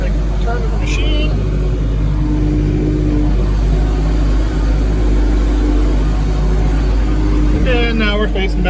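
A small snow grooming machine drives a snowy R/C track with a steady close engine drone throughout, and someone talks briefly near the start and end.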